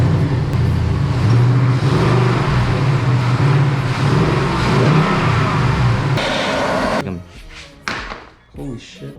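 Ford 5.0 engine with a stock air filter revving hard, loud and close, a sustained roar for several seconds before a sharp slam and a few quieter knocks.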